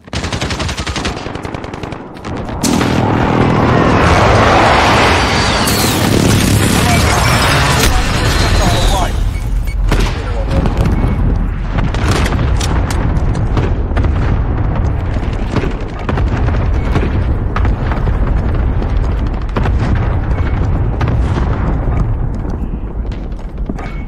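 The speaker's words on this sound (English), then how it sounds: "Friendly precision airstrike inbound." Precision airstrike explosions and heavy gunfire roar in Call of Duty Modern Warfare, a dense, continuous loud barrage of blasts and automatic fire with scattered voices underneath.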